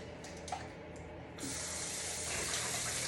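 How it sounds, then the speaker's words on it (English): Tap water runs steadily into a cup in a home kitchen while hash brown potatoes are being strained, starting as a softer trickle and then becoming a louder, fuller stream about halfway through. "I'm gonna put some water in there and then I'm gonna strain it like that."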